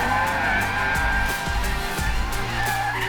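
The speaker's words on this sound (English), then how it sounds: "I'll go full drift mode" A Hyundai RN22e electric car drifts on The Bend race circuit. Its tyres squeal and skid continuously, loud and close, over a rough scrabbling roar.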